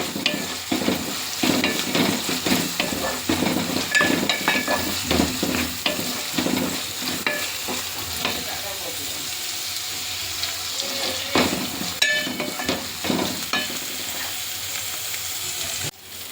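Onions with ginger-garlic paste frying in a pan for fish curry, stirred with repeated scraping knocks over a steady sizzle, no talking.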